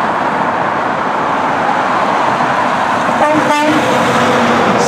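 A Kenworth truck rolls past amid steady roadway traffic roar, with a short horn toot near the end.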